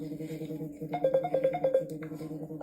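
A phone ringtone plays a short repeating melodic pattern, fairly quiet, over a low background tone.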